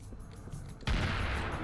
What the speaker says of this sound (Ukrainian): давно я з дробовика не стріляли так